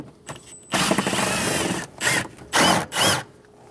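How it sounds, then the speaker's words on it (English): A 10mm socket on a power driver removes trim piece bolts inside a 2003-2025 Chevrolet Express 2500 van. One long whirring run is followed by three short, loud bursts with brief pauses between, close up. "Using a 10mm socket, we're going to remove the 2 bolts for the trim piece."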